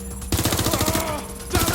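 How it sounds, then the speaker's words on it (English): Automatic gunfire in Watch Dogs Legion rattles out in rapid, loud bursts, a short pause then a dense stream of shots before another burst at the end, with faint game chatter mixed in. "Suspect has opened fire!"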